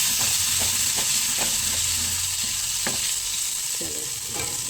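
Mustard-seed tempering for dhaba-style kadhi crackles and sizzles in a hot pan on low gas, a steady frying hiss broken by sharp pops and spoon stirring, close and alone.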